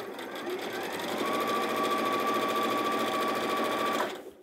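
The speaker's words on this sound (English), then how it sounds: "sew all the way across" An Elna 780+ sewing machine stitches steadily across fabric, its fast even whirr building and holding close and loud before stopping abruptly near the end.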